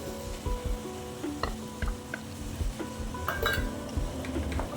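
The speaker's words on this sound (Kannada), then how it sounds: "ಇದಕ್ಕೆ ಈಗ ಚೆನ್ನಾಗಿ ಹಚ್ಕೊಂಡಿರುವಂಥ ಟೊಮೆಟೊನ ಹಾಕ್ತಿದ್ದೀನಿ" Chopped tomatoes going into a sizzling masala in a pan for aloo palak, with a soft continuous sizzle under repeated clinks and scrapes of a spoon against the pan.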